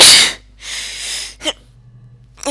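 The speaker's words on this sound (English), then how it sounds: "Gonna sneeze." A person sneezes in a quick breathy burst: a sharp intake, a louder noisy release, then a brief snort-like breath, close to the listener with quiet gaps between.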